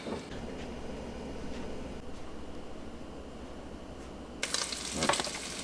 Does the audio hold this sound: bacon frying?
yes